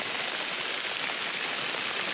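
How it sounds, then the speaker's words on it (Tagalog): Steady rain pouring in the mountains, a dense, even hiss of falling water that stays constant and close throughout, with no voices. "umuulan pa"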